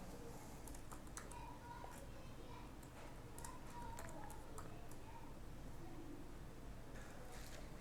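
Quiet, irregular tapping on a computer keyboard in bursts of quick keystrokes, heard faintly over a low background hum.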